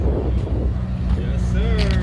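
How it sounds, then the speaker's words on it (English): A McLaren sports car rolls in at a car meet, its engine a low steady rumble close by with a rising whine toward the end. "McLaren coming in."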